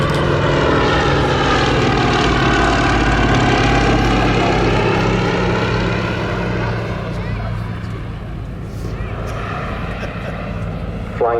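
Propeller aircraft, the Fairey LS-326 vintage biplane, droning past in an airshow display at Southport, a loud steady engine note with harmonic whine that gradually recedes and fades over the clip.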